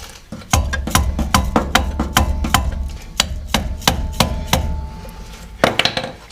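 Suspension bolts on a Lincoln or Ford front end are tapped back in with a series of close, sharp metallic knocks in a quick irregular rhythm, about a dozen strikes, with no talking.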